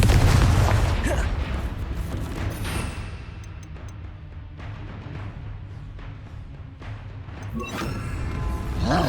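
Confringo explosive spell in the Hogwarts Legacy video game, a heavy booming blast at the start followed by rumbling debris and scattered pops, loud and close.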